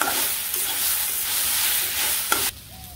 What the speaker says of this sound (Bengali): রসুনটা ভালো করে মিশিয়ে নিই, তারপরে নামিয়ে নিলাম।